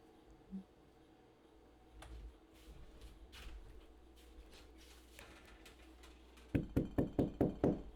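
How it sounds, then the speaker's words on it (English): A glass jar packed with pickles is knocked down on a counter several times, giving a quick run of five or six firm, close thuds near the end after quiet kitchen rustling and a few light clinks. "you can take the jar and just kind of knock it down to pack those pickles down in it"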